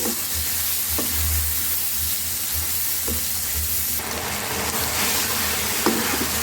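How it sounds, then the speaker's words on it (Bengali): An onion-garlic spice paste sizzles steadily while being sautéed and stirred in a pan for rohu fish kalia, with occasional sharp scrapes and taps of the spoon against the metal under continuous frying hiss. "এখন ভালোভাবে কষিয়ে নেব পুরো মশলাটা আমি"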